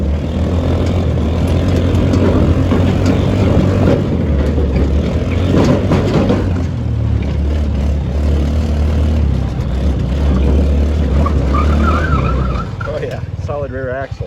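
A Yerf Dog go-kart with a solid rear axle driving on dirt, its small engine droning loud and steady throughout, with road-like rumble and a brief shift in tone near the end.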